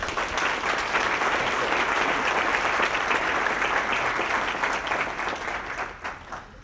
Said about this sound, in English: give him a warm applause and welcome here today